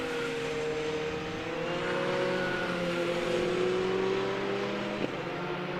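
Prototype race cars pass at Silverstone during a BARC Britcar race, engines droning loud and near as the leaders go by, pitch sliding downward, with a steady roar of further cars behind.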